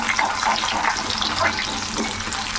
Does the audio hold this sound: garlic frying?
yes